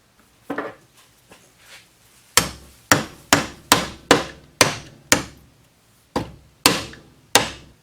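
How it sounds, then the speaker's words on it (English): Metal-on-metal hammer strikes driving a trailing arm bushing into a neglected low-mileage Honda CR-V using an old bearing as a driver: a few light taps, then a run of loud, sharp, ringing blows at an irregular steady pace, close up. "I'm taking this old bearing here and I will be hammering it like that"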